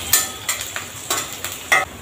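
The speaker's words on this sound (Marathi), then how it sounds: "कांदा छान परतून झाला।" Finely chopped onion sautés in a little oil in a kadhai, with about five sharp scraping stirs of a spoon against the pan over a faint, quiet sizzle.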